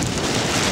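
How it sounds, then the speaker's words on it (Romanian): Rain at a fishing pond makes a dense, steady hiss with wind rumble pressing on the microphone, a loud unbroken wash lasting under a second. "pe timp de ploaie"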